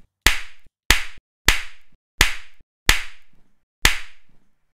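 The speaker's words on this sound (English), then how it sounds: "Let's use that clap. And the reverb on those sound really cool." Six sharp foley hand claps spaced evenly about two-thirds of a second apart, each followed by a bright reverb tail that fades quickly, close and loud with nothing else around them.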